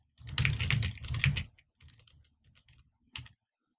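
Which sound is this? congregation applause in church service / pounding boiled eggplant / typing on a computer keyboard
typing on a computer keyboard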